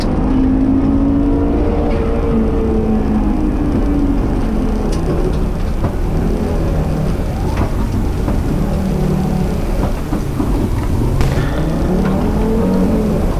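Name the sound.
rally car braking and accelerating through a chicane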